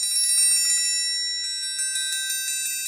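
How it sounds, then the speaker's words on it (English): A triangle struck with the plastic end of the beater rings with bright, metallic, high-pitched tones, hit repeatedly in a quick series that shimmers and sustains, with no voices. "So if I tried to play the triangle with the plastic part,"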